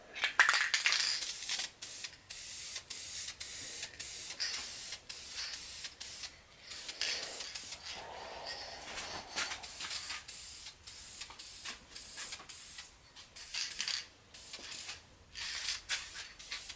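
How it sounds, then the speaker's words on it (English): Duplicolor clear coat sprayed from an aerosol can onto a Dante's Ebony and Ivory prop gun, a steady close hiss in long bursts broken by short pauses, with no voices. "we're going to clear both of them. And I'm just using Duplicolor, clear"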